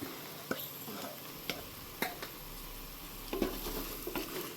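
Masala with a tablespoon of black pepper fries in a pan under a steady sizzle, while a spoon stirs and scrapes against the metal in intermittent close taps.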